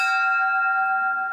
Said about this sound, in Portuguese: Para a igreja, o badalar dos sinos é a voz de Deus.